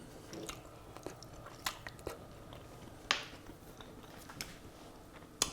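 Someone bites into and chews freshly fried chips served with mussels, chorizo and shallot, giving soft crunches and a few sharper crackles close to the mic, quiet and without talking.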